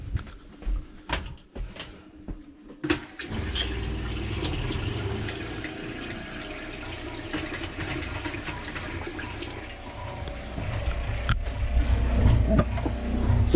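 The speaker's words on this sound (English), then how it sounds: "you can hear the water pump is still pumping" A camper's water pump runs steadily with a low hum while water drains from the lines of a Jayco Jayflight travel trailer during winterizing, with a few sharp clicks and splashes early on.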